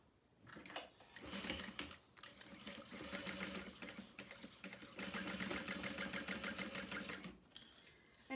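A sewing machine runs steadily, stitching the seam of a makeup bag, its rapid needle clatter continuing almost nonstop for several seconds with only brief pauses, close and fairly loud, with no talking.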